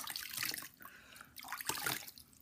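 Water splashes close by as a face is rinsed by hand after makeup remover, a few soft, quiet sloshes in quick succession.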